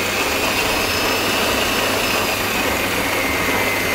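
A stand mixer whips egg whites for fluffy pancakes, its speed just raised. It gives a loud, steady, unbroken whirring drone for the whole stretch, with no talking.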